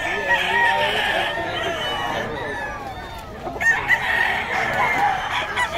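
Roosters crow repeatedly amid the din of a busy Bocaue tiangge poultry market, with clucking fowl and a murmur of voices around them.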